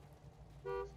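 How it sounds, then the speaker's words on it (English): A car horn toots once in a video game, a short, clear, tonal honk near the end, sounding over low engine rumble. "I'm repeatedly honking at Dexter to get in the car"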